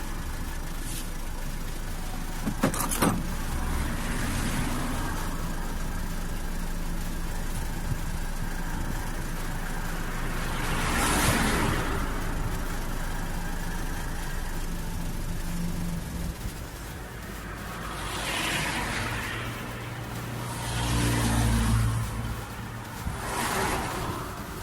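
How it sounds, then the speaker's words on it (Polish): A Renault Laguna 3 2.0 dCi 150HP diesel engine with an EGR valve fault idles at a fairly steady, moderate level, with a few brief surges and swells along the way. "Silnik chwilowo pracuje równo, zwróćcie uwagę na jego obroty,"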